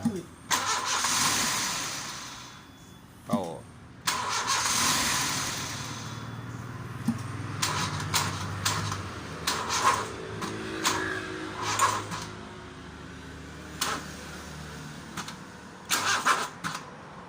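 A Honda Civic with a hard-start fault and a new battery cranks at length, then catches and idles unevenly with a few blips, close by, while people talk over it.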